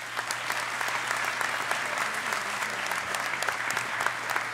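A commencement ceremony crowd applauds the college trustees, a steady, even wash of many hands clapping that holds at the same level throughout without voices.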